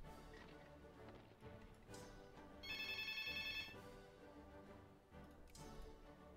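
A phone ringtone chirps for about a second as a quick run of bright, repeated electronic tones. It is quiet and sits over continuous background music.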